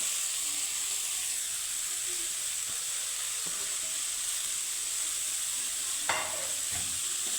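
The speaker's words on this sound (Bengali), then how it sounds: "আমার নারকেলটা আমি ভাজা হয়ে গেছে। এখন আমি দিয়ে দিব গ্রেট করে রাখা পেঁপে।" Grated papaya hits lightly fried coconut in a hot pan, giving a steady hissing sizzle with occasional spatula scrapes and a sharper clatter near the end.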